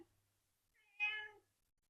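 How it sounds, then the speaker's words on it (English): A Balinese cat gives a single clear meow, short and moderately loud, set against an otherwise quiet room. "Balinese cats are very expressive in vocals."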